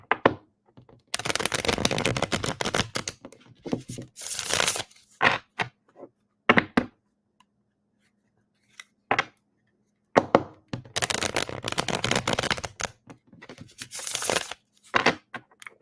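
A tarot deck is being shuffled by hand, with crisp riffling and slapping card bursts in several separate rounds and quiet pauses between them, close and alone.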